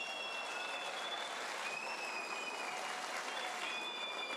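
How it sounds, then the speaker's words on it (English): Sustained crowd applause at an outdoor Martin Luther King Jr. Day rally in Salt Lake City, steady and dense clapping with occasional whistles riding over it. "Can we thank our great speakers again?"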